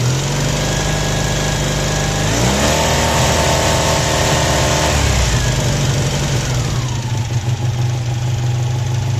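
A V4 engine revs up to higher RPM while it runs on the bench during battery regulator work. It is loud and steady, rising in pitch at about two and a half seconds, holding there, then settling back toward idle.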